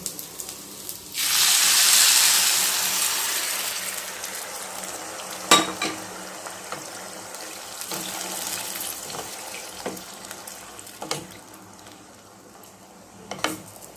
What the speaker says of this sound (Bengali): এবার যে গ্লাসটা আমি চাল ভেপেছি ওই গ্লাসেরই 2 গ্লাস গরম জল আমি ঢেলে দিচ্ছি